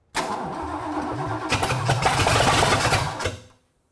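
A Ford engine on its first start-up attempt, with no fuel pump running, cranks loudly and continuously for about three and a half seconds without catching, then stops abruptly into silence.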